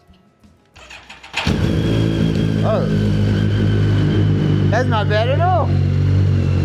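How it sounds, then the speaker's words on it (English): A BMW K1300 GT touring motorcycle engine cranks and catches, then settles into a steady, loud, deep idle close by, while someone talks briefly over it. "give you guys a nice little startup"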